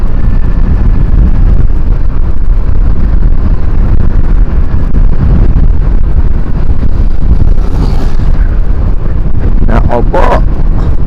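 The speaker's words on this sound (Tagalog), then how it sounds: "Lakas ng hangin." Strong wind roars across a microphone outdoors near a Suzuki big bike, a loud continuous low buffeting rumble throughout with a couple of brief brighter gusts near the end.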